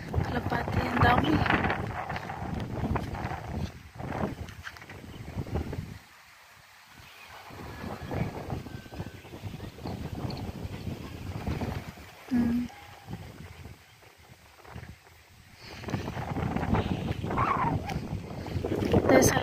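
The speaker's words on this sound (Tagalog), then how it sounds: "So lakas talaga ng hangin guys." Strong gusts buffet the microphone outdoors with a rushing, rumbling roar that swells and drops, easing around the middle before surging back loud near the end.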